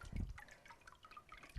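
Water drips and trickles from a papermaking mold just lifted from a vat of pulp as it is shaken, a brief splashy burst then scattered drips, close and fairly quiet.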